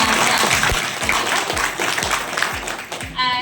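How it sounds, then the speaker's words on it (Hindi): An audience at a motivational talk breaks into applause, a dense, loud, continuous wash of clapping with a rhythmic low thump beneath it, fading slightly near the end. "जोरदार तालियां हो जाए"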